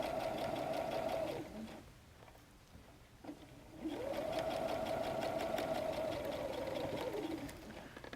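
A sewing machine runs in two steady bursts while stitching a messenger bag, a quiet rapid mechanical whir that stops briefly in the middle for a pause with small handling clicks before resuming.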